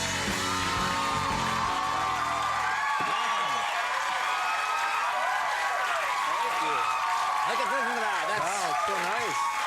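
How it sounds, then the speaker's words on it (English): A studio audience on Late Night with Conan O'Brien applauds and cheers as Will Ferrell is welcomed in 2003, a dense, loud, continuous wash of clapping mixed with whoops and yells. "It's nice to hear the applause."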